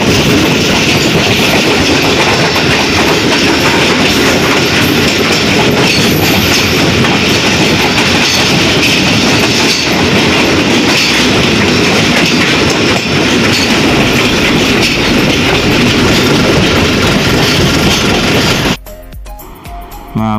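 A Pakistan Railway train runs steadily on its tracks between large mountains, with a loud continuous rumble and rhythmic clickety-clack of wheels close by that cuts out abruptly near the end.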